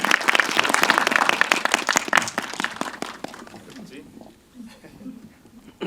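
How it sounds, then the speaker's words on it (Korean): Audience applause at a Korean film talk event, dense loud clapping that swells for about three seconds, then thins out and fades to scattered claps. "여러분 박수 부탁드립니다"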